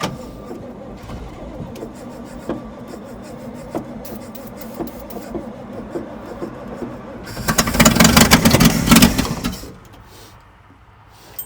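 A long-dormant C60 Viking truck engine with a manifold leak cranks and chugs unevenly, then roars louder for a couple of seconds before settling, with people talking over it.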